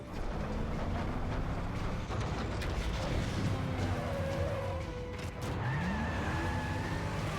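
Metal Gear Rising: Revengeance car chase, with engines roaring steadily and tires squealing and skidding in rising and falling whines, loud and continuous throughout, with faint voices mixed in underneath.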